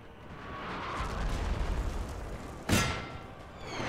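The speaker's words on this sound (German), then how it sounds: "Und meine Kanonen hier das Feuer konzentrieren aufs Zentrum." Cannon artillery fire in the video game Napoleon Total War: a rumbling battle din builds, then a sharp loud cannon blast cracks out near the end, followed by a fading echo.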